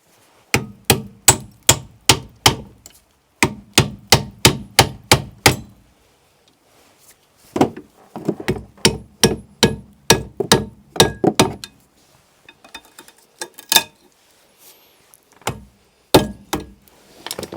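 Sharp metallic hammer blows on 2010 Toyota Corolla brake parts, struck in quick runs of several hits with short pauses between bursts, loud and close.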